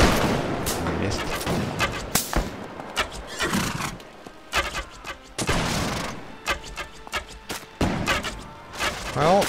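Cossack troops in Mount & Blade With Fire and Sword fire repeated musket volleys, sharp cracks and ragged bursts close by, with horses whinnying in between amid battlefield din.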